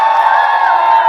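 An audience at a victory celebration cheers and shouts, a dense, loud, steady crowd roar that holds throughout.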